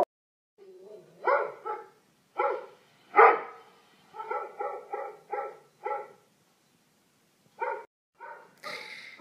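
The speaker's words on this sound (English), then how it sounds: "I got a new dog." Sparky, a new dog, lets out a string of excited barks and yips, close and loud, in bursts with short pauses between them.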